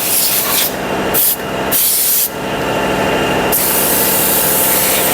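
Loud bursts of pressurized water spray hiss against a metal mould die in several blasts, over a constant mechanical hum of sandal-making machinery.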